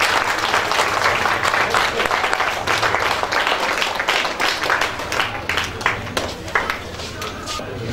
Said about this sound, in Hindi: हम तालियों के साथ स्वागत करें